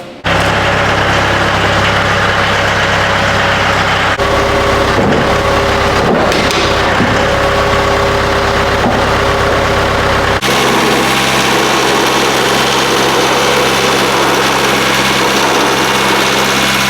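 A tractor engine runs steadily at close range with a loud, even drone, its tone shifting slightly at a few points but never stopping; no one talks over it.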